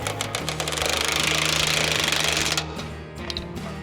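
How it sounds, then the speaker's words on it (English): Loud, steady mechanical rattling and hammering with a strong low hum while lock nuts are tightened on a Terramite backhoe in a garage, likely a power tool, easing and changing tone near the end. "Now let's tighten them down."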